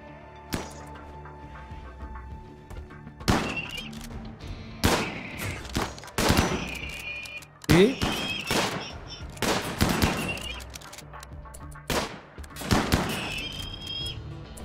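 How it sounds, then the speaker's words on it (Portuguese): Gunfire in RimWorld with the Combat Extended mod as a colonist shoots at animals: bursts of sharp cracking shots in rapid clusters, some close and loud, separated by short pauses over faint background ambience. "Ela vai atirando nos bichos"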